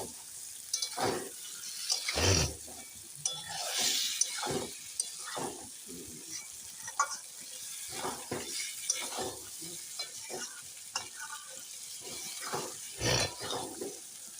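Tomato paste thinned with a little water simmering in a pot while Kashmiri aloo dum cooks, with soft bubbling and sizzle under repeated stirring and clinks of a utensil against the pot, close and moderately loud.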